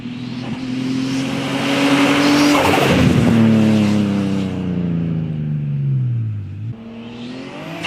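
A Nissan Skyline R33 revs hard while its tires squeal in a loud, sliding screech, the engine note first climbing and then falling away over several seconds.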